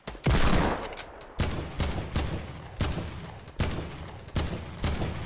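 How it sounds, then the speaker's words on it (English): Desert Eagle pistol fire in the Fortnite video game: about seven loud, sharp shots spaced roughly evenly over a few seconds, each with a short decaying tail, and no talking. "I'm gonna try and hit him with a deagle"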